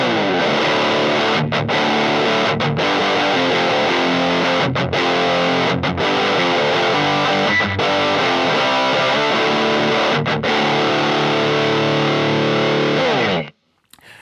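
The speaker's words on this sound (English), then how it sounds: "turning that pedal on and the volume on 10 on the guitar will take us there." An electric guitar with its volume on 10, driven through an overdrive pedal for a signature tone, plays heavily distorted, sustained chords with brief gaps between phrases before cutting off at the end.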